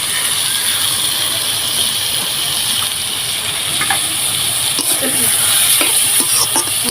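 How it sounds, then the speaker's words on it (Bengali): Spices get stirred into vegetables frying in a pan, a loud continuous sizzle and hiss under scattered scraping and clinking strokes of the spoon that grow busier toward the end. "মশলাগুলো সবজির সাথে খুব ভালো করে মিশিয়ে নেব।"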